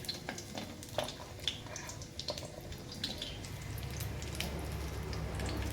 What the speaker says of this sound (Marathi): हे बघा आता परत 1 चमचा तूप टाकून आता आपल्याला ही ओली खजूर भाजून घ्यायची।